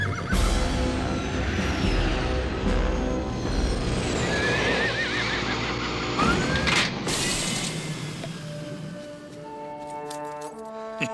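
Several horses neigh and whinny loudly, with shrill calls over hoof clatter and mechanical creaking, continuing throughout.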